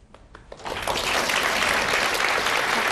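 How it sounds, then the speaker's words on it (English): Audience applause erupts at the ISFLC 2011 student conference during a federal budget talk, building from a quiet start into steady, dense clapping that holds to the end. "All right, you're clapping"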